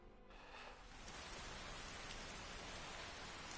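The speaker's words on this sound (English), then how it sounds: "Obviously we have the mod where the rain is streaming out." Steady rain streams down in Skyrim, a modded downpour producing a dense, continuous hiss that stays loud and unbroken throughout, with no voices.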